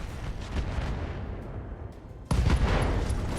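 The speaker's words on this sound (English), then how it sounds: "SRM ammo explosion." An SRM ammunition explosion in the mech combat game RogueTech, a dense roaring rumble that swells abruptly into a heavier, louder blast partway through, continuous and booming with no talking over it.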